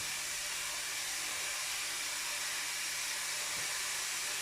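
Food frying in a pan on a home stove gives a steady, even sizzle, a broad airy hiss that holds constant throughout with no talk over it.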